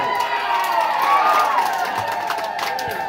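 Devotees at a Gajalakshmi puja in Kukudabahali raise a loud, sustained ululation with crowd cheering and shouting, a dense continuous wall of high trilling voices close by, with clapping mixed faintly underneath.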